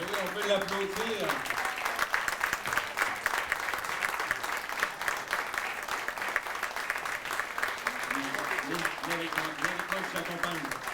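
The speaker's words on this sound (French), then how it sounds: "On peut l'applaudir." Moderate audience applause at a hospital foundation's 40th anniversary evening, steady clapping throughout with a voice speaking over it at the start and again near the end.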